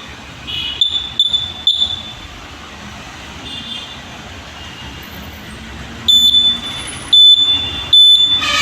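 Battery-powered electronic buzzer giving a shrill, piercing beep in short bursts: a quick triple at first, then three longer, louder blasts near the end, over a hissy background.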